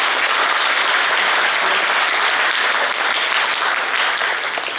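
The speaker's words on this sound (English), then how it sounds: "let's give a big applause to her" Steady, loud audience applause after a public lecture at a university history department, continuous dense clapping throughout with no talking.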